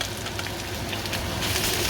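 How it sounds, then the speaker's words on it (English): Chicken pieces sizzling in a hot wok for a stir fry, a dense, steady crackling hiss close up under a loud exhaust fan, no talking. "I'm just getting the chicken in there, getting it to sizzle"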